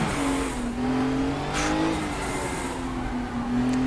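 A turbocharged race car climbs a hill in RaceRoom with its engine revving up steadily and holding a strong tone with slight pitch shifts, the sound close and continuous.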